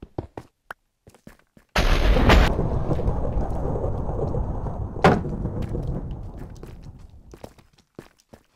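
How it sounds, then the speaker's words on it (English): Thunder in the Minecraft video game, heard from inside an underground cave: a loud rolling rumble sets in suddenly after faint clicks, sustains for several seconds with a second crack midway, then slowly fades. "I just heard thunder from inside a cave"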